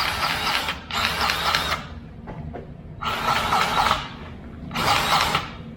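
A grease gun pumps grease into a pivot fitting, giving several rasping, mechanical strokes of about a second each, close and fairly loud, separated by brief quieter pauses over a low background rumble.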